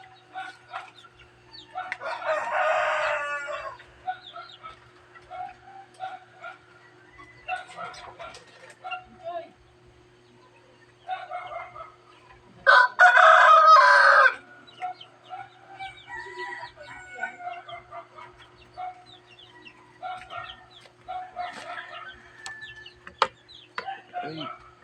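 Backyard chickens and a rooster at morning feeding time, with bursts of clucking and two loud crowing calls standing out over scattered poultry chatter.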